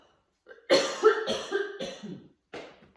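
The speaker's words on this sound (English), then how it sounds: "I'm going to cough." A burst of harsh coughing, three quick coughs close together and then a fourth after a short pause, loud and close with no speech.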